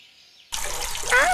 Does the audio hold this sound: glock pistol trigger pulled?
no